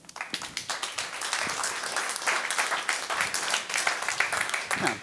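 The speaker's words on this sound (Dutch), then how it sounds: "Graag een groot applaus voor Joost van Blijswijk" An audience applauds to welcome designer Joost van Bleiswijk, with dense, continuous clapping that swells and holds for several seconds in a large room.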